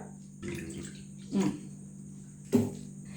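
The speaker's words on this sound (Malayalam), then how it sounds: "വെള്ളം ഒഴിക്കാം" Water is poured into a pan in three short, close splashing bursts over a low steady hum, with quiet pauses between them.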